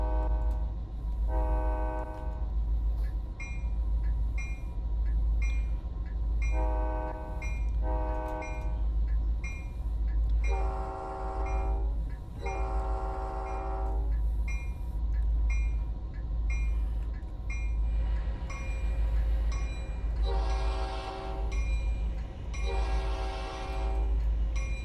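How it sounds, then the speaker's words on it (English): An F40PH diesel locomotive in a train simulator sounds its big bore air horn in several chords of repeated short and long blasts over a constant rumbling engine drone. "let's actually go ahead and switch over the horn to the big bore"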